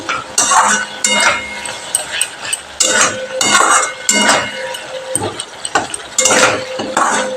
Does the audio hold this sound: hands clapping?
no